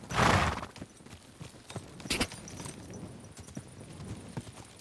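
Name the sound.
horse hooves clip-clopping in the video game Kingdom Come: Deliverance II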